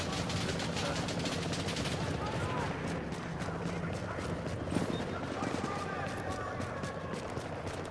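Rapid bursts of automatic gunfire in the video game Tom Clancy's The Division, a dense crackle of shots running throughout under voices talking over the action.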